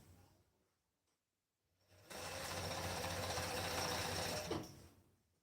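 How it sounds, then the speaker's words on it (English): Serger overlocking a curved seam on a child's hoodie, a steady loud mechanical whir that runs for about two and a half seconds and then stops. "So at the serger, you make sure this stitch line is at the center of the footer."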